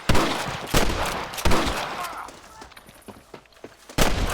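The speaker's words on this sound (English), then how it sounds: "Good shooting, boy!" Gunfire in Red Dead Redemption during a shootout with deputies: loud, sharp shots crack in irregular bursts, some close and some more distant, over the clatter and echoes of the fight.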